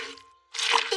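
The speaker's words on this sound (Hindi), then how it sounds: "जॉर्ज ने अपना स्पंज मिट्टी के गड्ढे में गिरा दिया।" A cartoon sponge drops into a muddy puddle with a wet squelching splat after a brief quiet gap, fairly close and clear with no talking.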